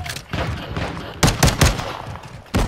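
Pistol shots in Call of Duty: Modern Warfare II ring out in a quick cluster of sharp cracks, several close together midway and another at the end, over a busy game background.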